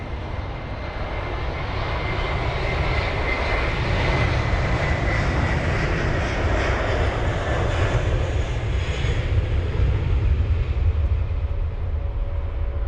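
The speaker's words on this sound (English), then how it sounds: "The Air Algeria A330 also rotating very, very quickly." An Air Algeria Airbus A330-200 jet roars steadily as it takes off from London Heathrow, a broad, sustained engine rumble with a faint whine, loud and continuous without voices.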